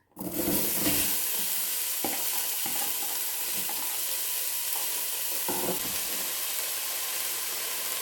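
Onions sizzling in a dry pan with no oil, a steady close frying hiss running throughout with occasional stirring scrapes and clicks, no voices.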